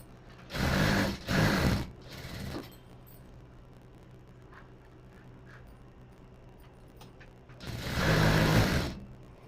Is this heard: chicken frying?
no